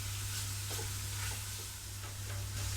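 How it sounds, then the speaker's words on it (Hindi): Spices, green chillies, parsley and mint fry in a pan for kofta biryani. A steady, close sizzle runs throughout, with soft scraping stirs breaking in every half second or so. "कुछ सेकंड्स के लिए इसको भून लूँगी।"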